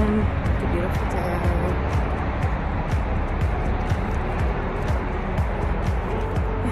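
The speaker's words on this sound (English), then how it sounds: "the traffic noise can be super loud outside" Loud outdoor road traffic roars steadily on a sunny day before a run, a dense continuous wash of passing cars with indistinct voices mixed in.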